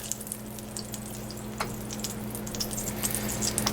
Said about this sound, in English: We're going to melt our butter or Smart Balance.